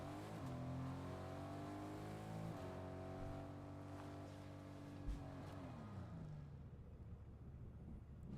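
A car drives in Fortnite, its engine humming steadily and shifting pitch as it speeds up, with a brief thump partway through before the engine fades out near the end.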